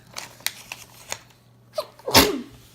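A single sharp human sneeze bursts out near the end after a few faint clicks and rustles, close and loud against a quiet room.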